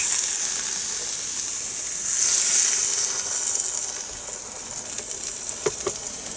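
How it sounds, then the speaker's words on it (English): Egg mixture sizzles and fries in a Salter XL Duo omelette maker, a steady close hiss of cooking that swells briefly, with faint clicks toward the end and no talking. "Now, let us add our egg mixture to each."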